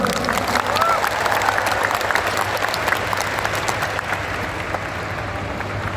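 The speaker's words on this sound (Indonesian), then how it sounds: "Kita beri sambutan, tepuk tangan." A university hall audience at Universitas Tadulako applauds the arriving minister, steady thick clapping from many hands sustained for several seconds over a low hum, with a few voices beneath.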